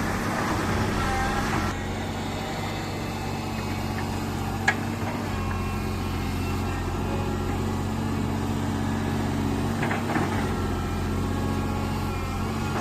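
A Komatsu PC200 excavator engine drones steadily while it pulls out old eucalyptus stumps, a constant mid-distance hum with a couple of faint clanks.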